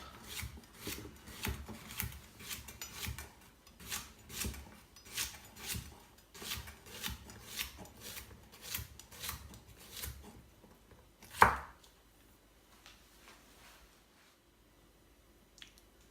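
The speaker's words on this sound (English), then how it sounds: "Next up is the courgette, so just cutting that into rounds, just going to top and tail it, and then slice it up." A knife slicing a topped-and-tailed courgette into rounds on a board, a steady run of crisp close cuts for about eleven seconds, then one sharp knock and near quiet.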